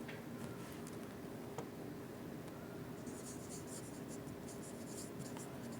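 A pen scratches across paper in short, quiet strokes over a soft steady background, close by, with no clear voice.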